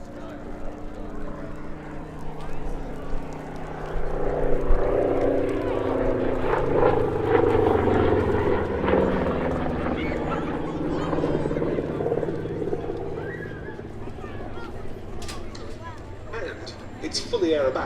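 A Saab B17 vintage Swedish dive bomber, fully aerobatic, flies at the Duxford Battle of Britain airshow 2024, its propeller engine droning steadily and swelling as it passes, with a voice talking over the sound.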